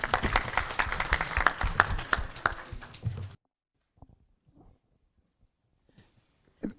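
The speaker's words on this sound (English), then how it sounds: "A round of applause for him." Workshop audience applauding, a dense burst of clapping for about three seconds that stops abruptly, followed by near silence with a few faint knocks and rustles.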